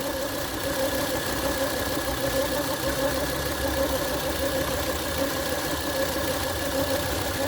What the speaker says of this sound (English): when the engine is running.